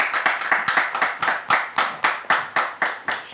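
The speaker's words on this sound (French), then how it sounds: "merci avec votre permission de recevoir le pasteur David sous vos applaudissements, s'il vous plaît." A studio audience claps to welcome a pastor onto the stage, loud rhythmic unison clapping with sharp, evenly spaced beats, close and without talk.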